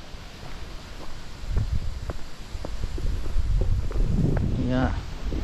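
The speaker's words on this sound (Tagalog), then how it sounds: "Sobrang lakas ng hangin." Low, rumbling gusts of strong wind buffeting the microphone on a mountaintop, with faint footsteps and a brief voice near the end.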